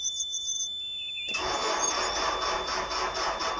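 A canal boat engine cranks and catches after a quiet moment, then runs steadily with a rough, broadband roar close to the microphone.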